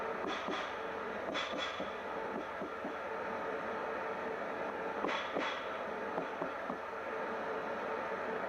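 Simulated train running along the main line in the Roblox game GCR, a steady continuous rumble of wheels on track with occasional brief clicks, with no talking.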